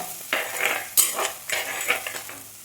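Green chilies and small onions sauté in a pan, quietly. A utensil stirs and scrapes in short, uneven strokes over a faint frying sizzle.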